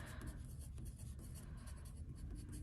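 Pencil writing a name on paper, a soft continuous scratchy stroke sound heard close and faint, with no talking.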